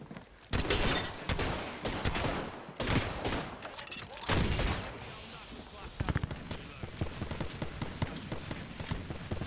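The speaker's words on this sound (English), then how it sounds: "Where am I getting shot from?" Rapid bursts of gunfire in a fast Apex Legends firefight, loud and repeated volleys with brief gaps, mixed with game sound effects and players talking over the shooting.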